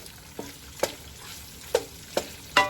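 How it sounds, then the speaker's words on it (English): Beef and shrimp fry in a pot for gumbo, with a steady sizzle under a few scraping stirs of a utensil against the pot. "Okay, it's still frying up here."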